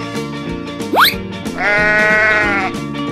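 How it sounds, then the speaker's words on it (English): Over cheerful children's music with a quick rising whistle, a sheep lets out one long, wavering bleat that holds for about a second, clear and close in a playful animal-sounds setting. "Sheep."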